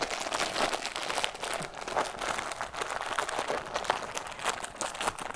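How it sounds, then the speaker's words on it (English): A snack bag of popcorn is torn and opened, giving steady crinkling and crackling plastic rustles, close up and fairly quiet, with no talking. "Let's break open the popcorn."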